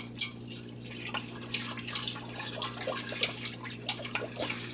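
Rice and water are stirred inside an Instant Pot pressure cooker: scattered wet clinks and swishes over a constant low electrical hum, close by and without speech.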